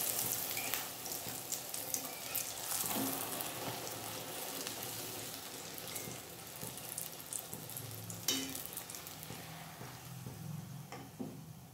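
Rolled dough puris fry in hot oil with a steady, soft sizzle and bubbling throughout, plus occasional faint clinks and splashes nearby.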